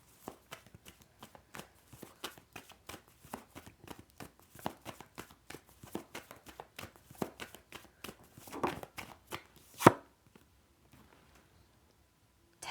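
Tarot cards being shuffled and drawn, a long run of soft, quick riffling taps and pats up close, ending in a sharper slap and quiet handling.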